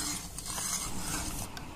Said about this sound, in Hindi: हिला रही हूँ, अभी वो पक रही है।